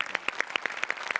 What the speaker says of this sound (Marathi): एकदा जोरदार टाळ्या ह्यासाठी